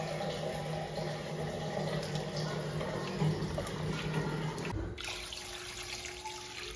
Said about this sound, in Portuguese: Agora eu venho com a água, né, vou colocar aqui até cobrir essa carne toda.